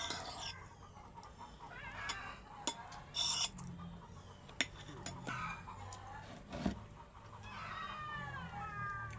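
Chickens clucking in the morning around a home, faint and distant calls scattered through quiet background noise, with occasional nearer cat meows.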